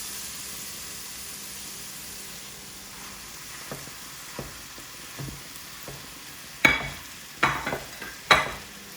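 Spiced mince with tomato puree stirred and pressed in a pan with a wooden spoon: a low sizzle underneath, then a run of sharp scrapes and knocks growing louder toward the end, close and with no voice.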